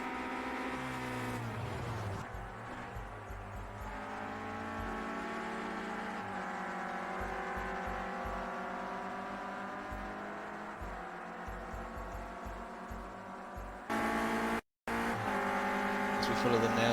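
Renault Clio Cup race cars at Silverstone racing in close company, a sustained engine drone with shifting pitch and gear changes, with race commentary spoken over it.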